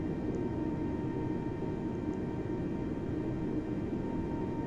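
An A320neo airliner in a flight simulator rolls down the runway for takeoff, giving a steady, loud engine roar with a low rumble that holds even throughout, with no talk over it.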